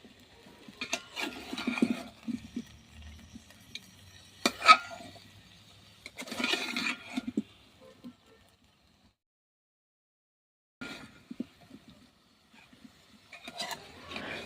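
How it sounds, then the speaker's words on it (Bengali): Olives simmering in a pot are slowly stirred, making intermittent close scraping and clinking of a spoon against the metal in short bursts separated by quiet gaps. "এইবার হালকা আছে আস্তে আস্তে নেড়ে নিচ্ছি"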